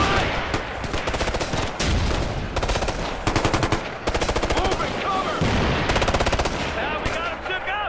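Rapid automatic weapon fire in the Ghost Recon Future Soldier game, with repeated bursts of machine-gun shots and short pauses, loud and close, while a voice talks quietly in the background.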